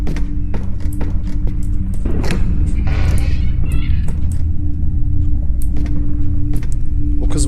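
A car engine in the horror game Pulang: Insanity holds a steady low rumble throughout, with scattered thumps and taps and a brief rattling burst in the middle.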